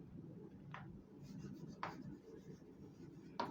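Chalk or marker scratches against a board during a physics lecture on electrostatics, a few short strokes over a quiet room hum with no talking.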